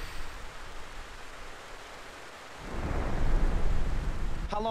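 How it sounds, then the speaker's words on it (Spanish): Steady rain hisses throughout in the video game Grand Theft Auto: San Andreas, then a low rumble of thunder swells and rolls on, deep and broad, with the downpour continuing beneath it. "Hostia, está lloviendo."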